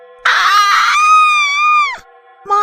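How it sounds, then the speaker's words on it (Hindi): A witch in a Hindi horror story lets out a shrill, piercing scream lasting nearly two seconds with a wavering pitch, then a short second cry begins. "अचानक वो चीख पड़ती है"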